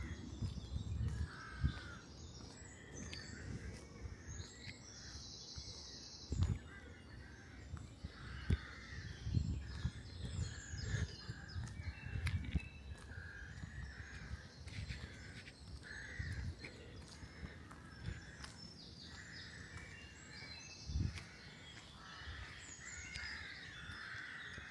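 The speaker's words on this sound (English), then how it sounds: "some rooks calling as well." Rooks caw repeatedly from a distance in a rural Isle of Wight Undercliff soundscape, scattered harsh calls over faint background birdsong, including song thrush and wren, and low rumbles.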